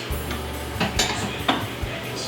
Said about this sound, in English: I'll just take some out and put it in a smaller dish and nuke it as well